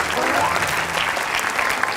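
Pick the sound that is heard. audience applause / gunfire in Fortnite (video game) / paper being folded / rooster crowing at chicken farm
audience applause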